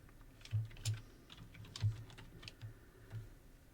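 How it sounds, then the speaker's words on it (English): Soft clicks of a computer keyboard as text is typed in, a sparse, irregular run of keystrokes, faint and close, with no talking. "Now the next thing you want to do is type in your text."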